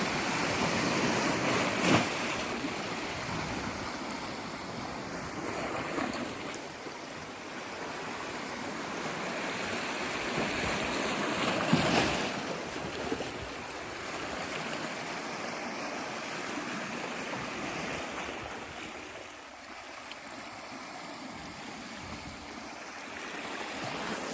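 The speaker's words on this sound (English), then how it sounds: "here comes the water rushing in a little bit" Seawater surges in over rocks and shoreline pools at Elsie Bay at sunset, a continuous nearby rushing wash that swells in a couple of louder pulses before easing slightly toward the end.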